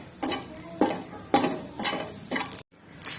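Green chili paste frying in a little oil, heard as a series of sizzling bursts in a rhythmic pattern as it is stirred, close by, with no talk.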